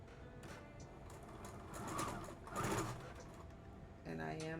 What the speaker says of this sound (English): And I'm going to back stitch.